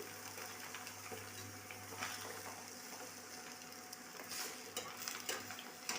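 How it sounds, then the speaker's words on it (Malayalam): Chopped onion and green chili fry with two eggs in a pan, giving a soft, steady sizzle and faint stirring scrapes that run the whole time, fairly quiet with no voices. "ഉള്ളിയും പച്ചമുളകും അരിഞ്ഞത് വരട്ടി അത് കഴിഞ്ഞ് രണ്ട് മുട്ടയും ഒഴിച്ചു"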